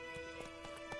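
Roach the horse from The Witcher 3 galloping, rapid rhythmic hoofbeats thudding steadily and close against a continuous tonal game soundtrack.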